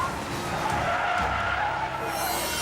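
A car braking hard during an Atlanta police chase, tires skidding in a loud sustained screech over engine and road roar.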